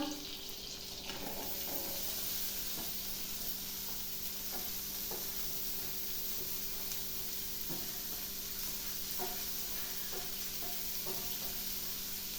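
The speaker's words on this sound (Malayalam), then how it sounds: "നല്ലതുപോലെ നമുക്ക് വാട്ടിയെടുക്കാം." Sweet corn kernels sauté in a hot pan with a steady, close sizzle and occasional scraping stirs throughout, and no one speaks.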